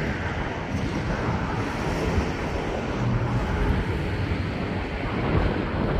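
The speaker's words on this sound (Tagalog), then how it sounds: "Lakas kasi ng hangin guys." Strong wind buffets the microphone in a steady, loud roar of broadband rumble that persists throughout, with no voices.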